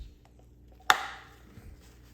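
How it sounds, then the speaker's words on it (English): A single sharp plastic snap as a new oil filter element clicks into its housing on a 2015 Jeep Grand Cherokee 3.6 Pentastar, close and crisp, in an otherwise quiet space. "the new element goes in like that and it snaps"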